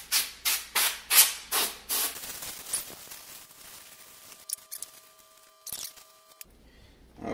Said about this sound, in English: we're gonna hit it with some compressed air